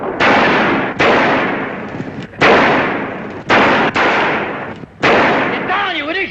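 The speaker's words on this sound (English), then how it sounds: "Sound like shooting? Hey, it sure does." Bursts of gunfire crack out in several loud clusters with short gaps between them, close and harsh, with brief voices and a whistling tone near the end.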